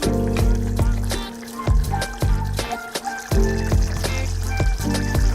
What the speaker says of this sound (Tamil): வெண்டைக்காய்க்கு பால் விடுறோம் தேங்காய் பால் போடுவேன்